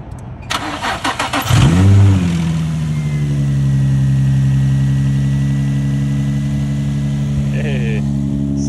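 An Infiniti G35 engine with its idler pulley deleted cranks with a quick rhythmic starter chatter, catches with a rising rev, then settles into a steady close idle with a faint whine, brief squeal and light background voices.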